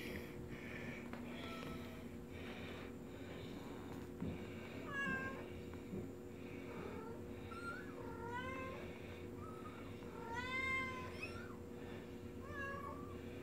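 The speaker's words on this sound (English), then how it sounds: "brought all her kitties upstairs so they could play with Ruby" Several kitties meow indoors, with repeated rising and falling cries scattered across the span, some overlapping, soft and fairly close against quiet household background.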